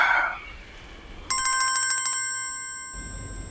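A telephone rings with a bright electronic tone that repeats in rapid pulses for about a second and then holds steady before cutting off, loud and close, with no talking.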